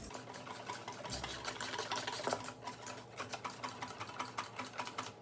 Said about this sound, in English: I'm gonna whisk together the ingredients